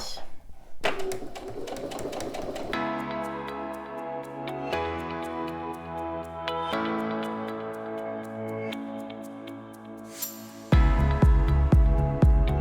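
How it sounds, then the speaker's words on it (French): A sewing machine stitches all the way around a jewelry pouch at a 2 mm stitch width, its needle ticking in a steady, fast rhythm over a tonal background, with no talking. "je vais faire tout le tour ici avec une largeur de point à 2 mm"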